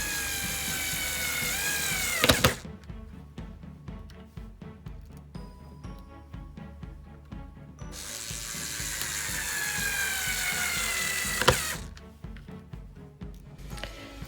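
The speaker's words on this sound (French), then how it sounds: "Ensuite, je pose les pattes pour assembler les planches. Et la visseuse électrique," An electric screwdriver drives screws to join wooden planks for a folding frame, with two long ratcheting runs separated by quieter clicking and handling noise.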